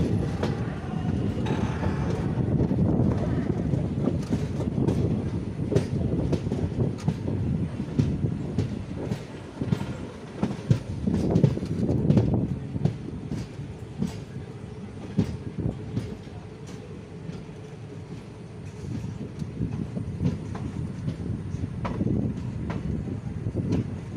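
Mangalore–Tambaram Express rolling into platform 1 at Ottappalam station, a steady loud rumble of rail cars with clickety-clack wheel beats and occasional faint squeals, continuous throughout with no talk.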